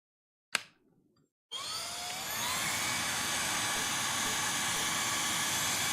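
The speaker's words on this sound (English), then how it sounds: "Vacuum cleaner's a bit louder this time, and it is, again, right by the microphone" A vacuum cleaner roars right by the microphone, starting abruptly after a short knock and holding a loud, steady whine that swells slightly and then runs on without pause.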